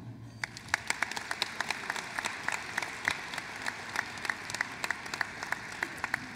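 Applause fills a banquet hall at a Freedom Fund dinner, many people clapping together while several crisp, evenly spaced claps ring out nearby, continuing steadily to the end.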